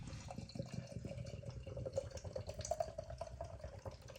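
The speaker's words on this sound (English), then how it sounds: "So a big rigorous pour on this one" Dugges Lyx bourbon barrel aged imperial stout pours from a can into a glass, a soft, close glugging and trickle with faint bubbling that rises slightly as the glass fills.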